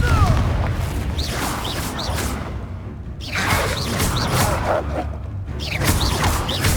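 The Confringo blasting spell fires in Hogwarts Legacy, producing loud booming explosions and crackling magic effects over a dense background of game sound throughout.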